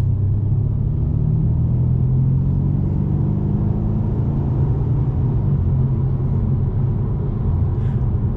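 A 2021 Mercedes-AMG C63 S coupe's engine idles and runs before warming up, a steady low rumble with a constant drone and no change in pitch.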